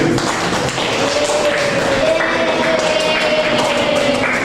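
A classroom of students applauds a group after its presentation, a dense, loud, continuous patter of clapping that fills the whole stretch.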